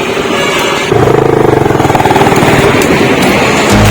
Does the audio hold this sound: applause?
no